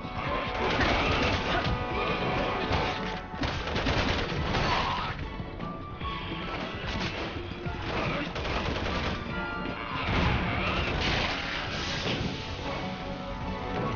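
Resident Evil 6 game audio packed with rapid gunfire, dense and continuous at steady loudness, blended with a busy soundtrack and effects throughout.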